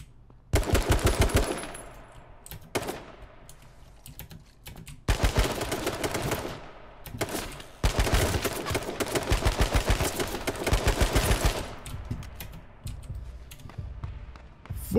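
Rapid bursts of automatic gunfire in a video game, loud and close, several long rattling volleys separated by short pauses, with faint clicking between bursts.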